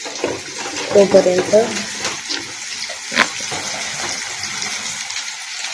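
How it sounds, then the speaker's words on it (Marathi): Tap water runs and splashes while soaked masoor dal is washed by hand in a kitchen. Someone speaks briefly over the steady rushing stream. "मसूरची डाळ मी भिजायला ठेवली होती 2 मिनिटं. ती पण वॉश करून घ्यायची छान."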